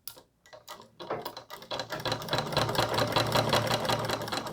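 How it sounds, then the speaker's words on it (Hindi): A sewing machine stitches the seam of a round collar on a suit, starting with a few separate clicks before settling into a steady, loud, rapid run of needle ticks close up, with no talking. "सो इसे पलटते हुए यहाँ सिलाई कर दे रही हूँ।"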